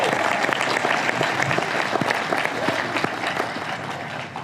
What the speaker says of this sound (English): it would make me super fucking happy if everybody clapped it up for each other